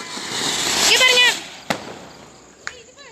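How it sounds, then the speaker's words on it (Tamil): A Diwali ground spinner firework (sangu chakkaram) hisses and whistles with a rising shriek, then pops sharply twice amid crackling, close by, with voices talking in the background. "சங்கு சக்கரம் திடீர்னு வெடிக்கும்."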